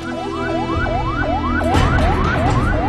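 An ambulance siren wails in a repeating rising sweep as the vehicle rushes a child patient along Zhongshan Road in a provincial capital, loud and close, with traffic rumble underneath and a sharper burst joining partway through.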